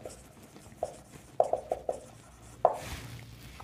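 Chalk or marker tapping and scraping on a board during a maths lecture on polynomial division: a handful of short, sharp taps in an irregular cluster, fairly close, with a brief scraping stroke near the end and no talking.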